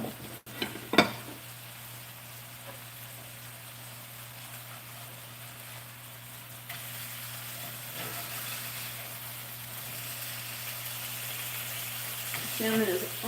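Salmon for fish tacos fries in a home kitchen pan, giving a steady, close sizzle that runs throughout, with a few clinks of a utensil against the pan and a brief louder scrape near the end.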